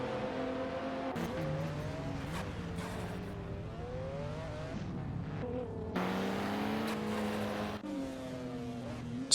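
AI-driven supercars race around Road Atlanta in a racing video game, engines revving and shifting through gears in overlapping waves, with some tire squeal and a loud burst near the end.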